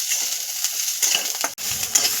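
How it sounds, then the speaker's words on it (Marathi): Onion sautés in a little oil for mutton masala, a soft steady sizzle with light scraping stirs and a brief pause partway, close by. "कांदा घेऊ टाकून आपल्याला परतून घ्यायचा आहे तो 2 मिनिटं"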